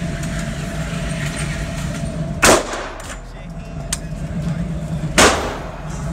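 Two sharp, loud .45 pistol shots fired at close range, about three seconds apart, each a hard crack with a brief ringing tail over a steady background hum.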